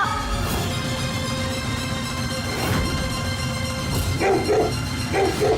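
Wild dogs bark and yip in short bursts toward the end, the barks moderately loud amid a dense, dramatic music-and-effects bed that runs throughout.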